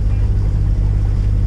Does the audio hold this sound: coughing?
no